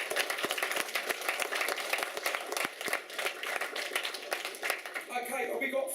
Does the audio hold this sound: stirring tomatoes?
no